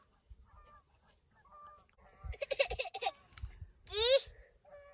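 Geese honk a few times at a distance by a Colorado high mountain lake, with a louder burst of honking near the end over quiet outdoor background.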